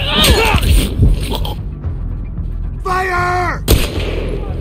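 Sharp gunshots and impacts crack out in The Last of Us Part II, close and loud, amid shouting voices and tense game sound.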